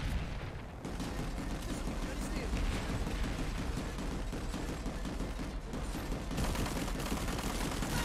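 Dense, continuous gunfire and explosions from a Planetside 2 battle on PS4, loud and chaotic throughout with overlapping rapid shots and booms, steady from start to end.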